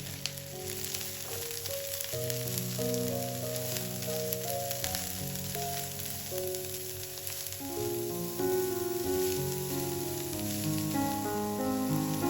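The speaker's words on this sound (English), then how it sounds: "Add the cabbage to the pan." Cabbage added to a pan with onion and garlic sizzles steadily for the whole stretch, a soft continuous hiss beneath louder background music.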